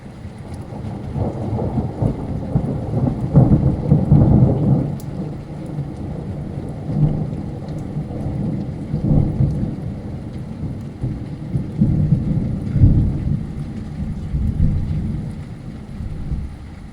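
Rolling thunder rumbles through an active thunderstorm over Anstey, with steady rain and hail falling throughout; low booming swells peak early and again near the end, loud and close, with no talking.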